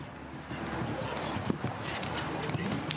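Horse hooves thud in a quick galloping rhythm during a show jumping competition in Madrid, heard under a commentator talking over the arena.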